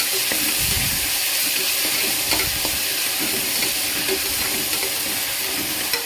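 Ginger garlic paste sautéing in a hot pan, a loud, steady hiss and sizzle with scraping from stirring, close and continuous with no voice over it.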